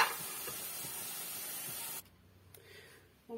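Potatoes being deep-fried in oil as fries for a chicken-with-olives dish, a loud, steady sizzling hiss for about two seconds that drops away abruptly, leaving faint bubbling and a brief clatter near the end.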